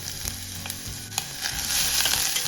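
Close, steady sizzling of chopped onions frying in hot coconut oil in a pan, continuous and crackly, with no voices.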